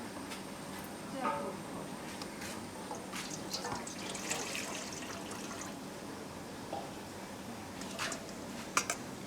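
Water is poured into a pot of cooked jackfruit curry, a steady, moderately quiet splashing and trickling flow with a few drips near the end.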